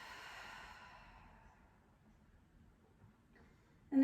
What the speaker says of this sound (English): And then exhale through the mouth.